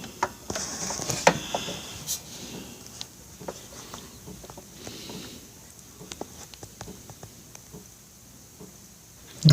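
A socket wrench ratchets on a BigDog motorcycle transmission, giving a run of close, sharp metallic clicks and clacks in bursts with short pauses.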